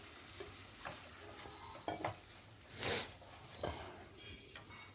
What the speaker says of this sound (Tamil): நம்ம கிண்ட வேண்டியதுதான்.